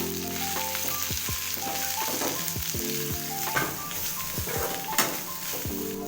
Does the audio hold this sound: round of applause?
no